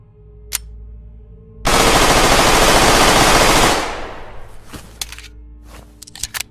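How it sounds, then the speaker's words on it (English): The G18C machine pistol in the shooter game Dead Matter, a rare weapon looted from a bunker, unloads in one loud, sustained burst of very rapid automatic fire lasting about two seconds, then fades into ambient noise. "The G18C, a rare, late-game weapon that must be looted from a bunker. The rate of fire on this thing is downright scary."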